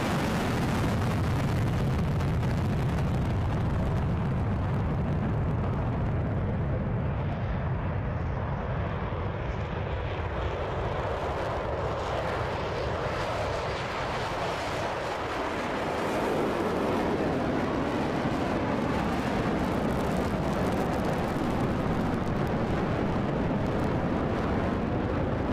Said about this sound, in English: please welcome the F-16 Fighting Falcon